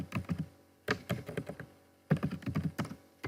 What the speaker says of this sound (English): We want to type read and reflect